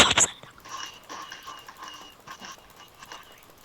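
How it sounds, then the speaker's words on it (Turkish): Game-like dog sounds: a sharp yelp at the start followed by soft whimpers and small noises over faint background activity. "Köpeğe dönüşmek için yiyeceğim değil mi bu elimdeki kemi?"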